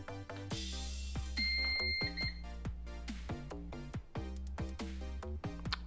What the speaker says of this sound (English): Now I'm going to press the on button and it should go through the self-test.